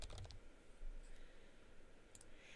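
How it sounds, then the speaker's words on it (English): Quiet typing on a computer keyboard, a quick burst of soft key clicks at the start and a few more taps near the end, close and faint in a hushed room. "Where it says name, you're going to type your name in there."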